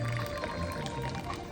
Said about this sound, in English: I'm going to try to pour as slow as possible